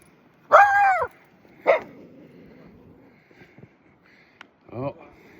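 A puppy barks outdoors in deep snow in central New York during a heavy snowstorm, giving a few short, fairly close yips and barks separated by quiet pauses.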